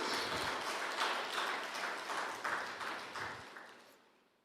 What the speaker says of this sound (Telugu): చప్పట్లు గట్టి కొట్టి దేవుని స్తుతిద్దాం